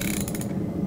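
A ratchet wrench tightening bolts in a workshop gives a quick series of close, dry clicking pawl ticks in a brief burst.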